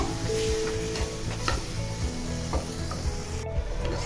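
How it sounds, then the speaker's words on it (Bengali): Boiled chana dal being mixed with spices in a pan, giving a steady close scraping and stirring sound over a soft continuous sizzle, with a few light knocks from the utensil. "অ্যাঙ্কার ডাল কিংবা ছোলা বুটের ডাল যেটাই বলেন আপনারা কেন সেটা একটু সেদ্ধ করে দিয়ে দিলাম দিয়ে সবগুলো মশলার সাথে খুব ভালোভাবে মিশিয়ে নিব"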